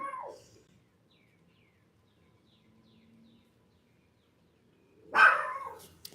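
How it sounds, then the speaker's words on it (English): Nighttime dogs outside, one faint distant bark at the outset, a long quiet stretch, then a sudden loud burst of barking that trails off toward the end. "The dogs are out tonight."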